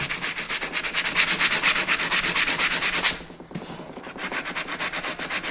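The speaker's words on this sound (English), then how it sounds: "I'm taking very little off and just sanding it down" Close, steady rasping strokes of sandpaper on the leather of a Lucchese 2000 Roper cowboy boot during restoration, fast even rhythm that pauses briefly, then carries on a little softer.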